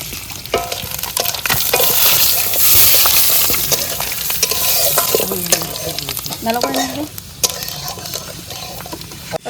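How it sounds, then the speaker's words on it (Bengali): Bay leaves and dried red chillies sizzle and crackle in hot oil in an outdoor village cooking setting, a steady loud frying hiss with clinks and stirring throughout, briefly joined by faint voices. "তেজপাতা শুকনো লঙ্কা ফোড়ন দিয়ে দেবো"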